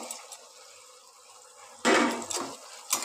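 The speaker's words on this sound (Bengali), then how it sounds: "এবার আমি আলুগুলো দিয়ে মশলার সঙ্গে ভালো করে কষাবো" In a cooking pan, a spoon stirs potatoes into spice masala. Low background hiss gives way to two short, close clattering scrapes of metal against the pan.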